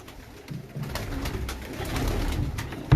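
Sialkoti pigeons in a breeder's loft coo softly and repeatedly over a busy background murmur. Their low throaty calls are close and continuous.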